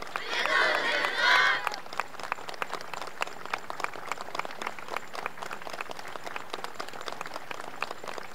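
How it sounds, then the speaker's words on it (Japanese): A festival crowd applauds a taiko drum troupe's performance with steady, dense clapping that continues evenly, while an announcer speaks briefly at the start. "迫力ある演奏、今一度大きな拍手をお願いいたします。"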